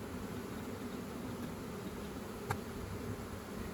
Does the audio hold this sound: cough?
no